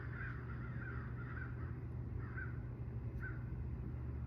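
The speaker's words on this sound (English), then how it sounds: "also the murder of crows out here" Murder of crows cawing outdoors, several harsh caws in a loose series, some grouped in quick runs, moderately distant over a steady low background hum.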